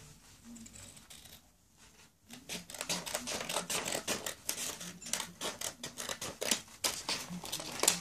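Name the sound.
scissors cutting a strip of paper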